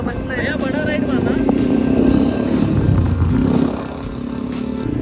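A motorbike engine drones steadily nearby on a beach ride, its note dipping toward the end, with voices heard over it.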